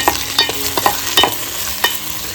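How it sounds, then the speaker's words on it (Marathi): Tomatoes go into a pan of sautéed onions, the oil sizzling loudly and close while a spoon scrapes and stirs in several quick, irregular strokes, with no voices. "इकडे आता सर्व टोमॅटो घालून घेतोय बघा."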